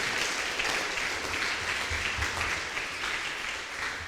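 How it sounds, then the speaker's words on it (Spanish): Church congregation applauding together during a Sunday worship service at a Maranatha mission in Paiporta, Valencia, a steady sustained round of clapping filling the room with no talk over it. "Vamos a dar un fuerte aplauso a Dios"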